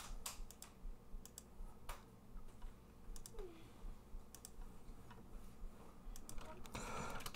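Computer keyboard keys clicking in irregular bursts of typing, fairly faint and close, with quiet pauses between strokes and a steady low background hum.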